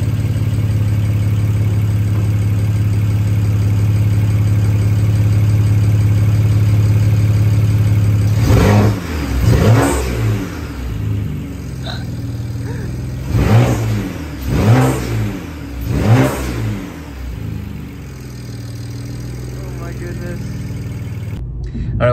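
A car with a BMW N54 engine idles with a low, steady hum, then revs sharply several times in a row, each rev swelling and falling back, heard close and loud.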